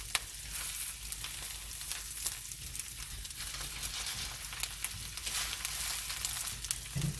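Onions fry in a carbon steel pan, giving a steady, close sizzle and crackle that runs throughout with faint stirring and no talk.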